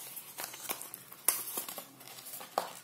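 Plastic packaging of a Mi Basic earphone being handled and pried open, giving close, quiet crinkles, crackles and small snaps in an irregular patter without talking.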